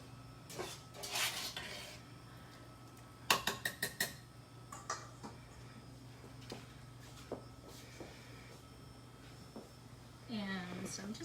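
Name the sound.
stirring flour into naan dough in a bowl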